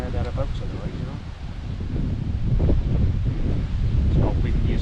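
Gusty wind buffets an outdoor fishing match spot, rushing and roaring in uneven surges that build louder toward the end, with a voice faintly present beneath it.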